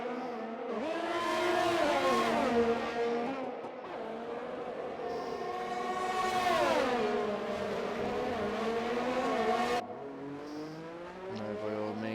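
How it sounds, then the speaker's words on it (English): A Ferrari Formula 1 car in a league race at Azerbaijan accelerates hard, its engine rising through the gears in loud, close sweeps before cutting off abruptly, with no talk. "Ferrari pulls away beautifully there"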